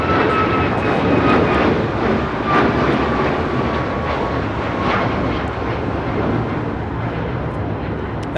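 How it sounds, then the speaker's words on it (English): A United Airlines Boeing 737 MAX 9 roars on its takeoff run at Los Angeles International Airport. The jet engine noise is loud, broadband and steady, with a faint whine running through it. "That is United Airlines 1621 taking off to Orlando, Florida on the 737 MAX 9."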